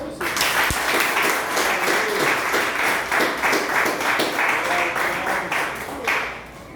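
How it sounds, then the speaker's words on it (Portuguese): A congregation in a church claps together in loud, fairly rhythmic applause that holds steady and then tapers off near the end. "Louva a Deus, essas palmas."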